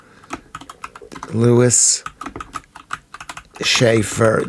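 Keys on a new computer keyboard clatter in quick irregular bursts, fairly close, while someone talks over and between the typing.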